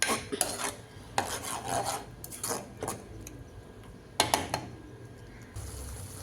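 A spoon stirs an Afghani egg curry mixture in a pan. Repeated scraping strokes come in short bursts separated by brief pauses, close and moderately quiet.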